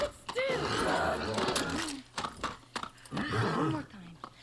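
A horse whinnies with a rising, quavering call in the game Far Cry 6, set against game sounds and background voices, followed by another shorter neigh.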